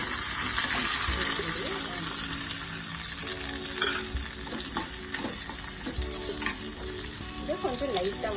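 Mustard seeds, dried red chillies and curry leaves sautéing in hot oil for kuzhi paniyaram: a dense, continuous close sizzle with scattered pops and some stirring scrapes throughout.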